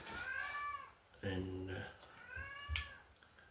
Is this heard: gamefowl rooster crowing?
no